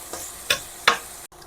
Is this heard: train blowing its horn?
no